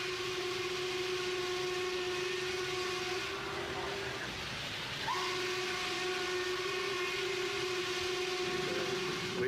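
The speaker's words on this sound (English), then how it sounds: "Just to hear the sound of that whistle." Norfolk & Western 1218 steam locomotive sounds a long, sustained whistle chord over a steady hiss, with one brief dip before the tone swells back, moderately distant and unaccompanied by talk.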